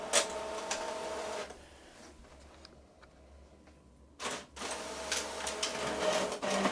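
An Epson C5790 printer with an "insert C1 correctly" error whirs and clicks through a black-and-white copy, with a busy mechanical stretch, a quieter pause, then a short burst and renewed running.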